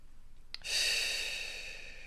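A single slow, deep breath in, beginning with a short sharp intake and then a long, steady, airy flow that slowly tapers off, close to the microphone and with no talking.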